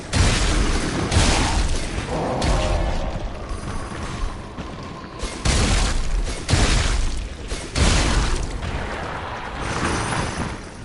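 Bombs burst in repeated heavy booms during combat in the video game Lies of P, several loud explosions rolling one after another with brief gaps, no talking.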